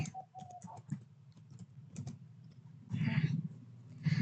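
Router commands typed on a computer keyboard produce close, irregular clicking keystrokes in quick bursts, with a low background hum and a few faint noises.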